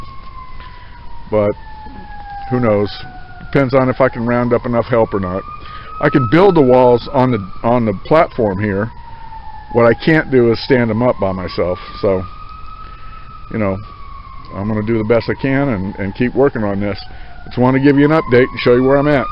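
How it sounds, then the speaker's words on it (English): A wailing siren rises and falls steadily in the background throughout, while someone talks continuously over it. "sorry about the siren"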